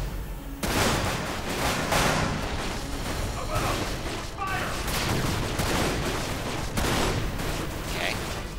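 Rifle fire in the video game Dirge of Cerberus Final Fantasy VII, a dense, continuous barrage of shots and blasts layered with game effects, loud and sustained throughout.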